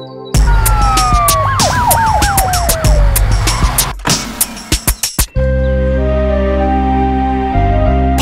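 A cartoon ambulance siren wails in rising and falling sweeps, loud and close, with sharp clatters, then cuts off to a low rumbling vehicle hum.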